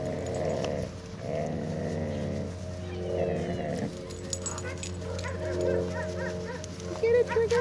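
Dogs barking and growling playfully nearby, short yips and rough growls in bursts, with people talking over them.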